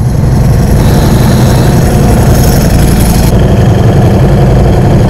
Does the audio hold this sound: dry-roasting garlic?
no